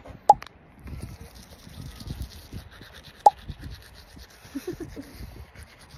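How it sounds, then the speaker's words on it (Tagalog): Teeth are brushed with a toothbrush in steady, soft scrubbing strokes, close and fairly quiet, with a couple of sharp clicks along the way, during a cold morning at Altyn Arashan, Kyrgyzstan. "Ganito ka mag-toothbrush."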